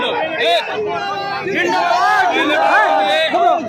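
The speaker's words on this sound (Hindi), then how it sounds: "लगातार देख लीजिए, ये भीड़ देख लीजिए," A loud crowd of protesting truck and tempo drivers shouts and chants together, overlapping voices rising and falling in agitated bursts, close and continuous.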